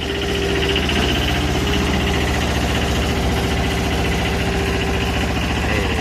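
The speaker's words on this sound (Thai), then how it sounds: "เร่งเครื่องหน่อย" A heavy diesel engine of a TCM 343 wheel loader with a two-cylinder Kubota engine revs loud and close with a steady, throbbing chug, holding a constant pitch without pause.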